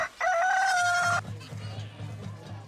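A rooster crows once, loud and close, in a cafe radio ad, followed by a low rumbling background with faint voices.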